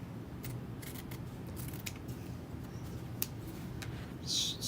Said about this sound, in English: I'm gonna grab my fabric scissors.